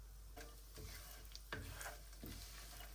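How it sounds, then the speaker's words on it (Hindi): Dried coconut, 60 grams, roasting in a pan over low heat gives a faint, steady sizzle with soft stirring scrapes at intervals, no voices. "अब हम 60 ग्राम खुश्क नारियल फ्राई करेंगे।"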